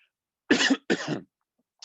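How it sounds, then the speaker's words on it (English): Two short dry coughs in quick succession, close and clear, followed by silence. "That is just a dry cough from speaking."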